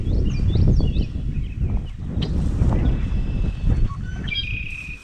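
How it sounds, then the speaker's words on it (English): Red-winged blackbirds call at a conservancy trail, their bright whistled notes rising over a noisy outdoor background of wind and rustling, heard at moderate distance across several seconds. "you can hear the red-winged blackbirds"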